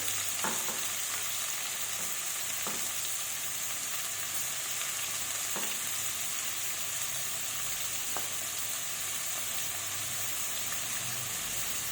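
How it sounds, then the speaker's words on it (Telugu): Two large onions fry in hot oil in a pan on high heat for bagara rice, a steady dense sizzle with occasional stirring scrapes, close and alone without talk. "ఇక స్టవ్ పెద్దగా పెడుతున్నా ఫస్ట్ ఉల్లిగడ్డ వేస్తున్నా ఒక రెండు పెద్ద ఉల్లిగడ్డలు"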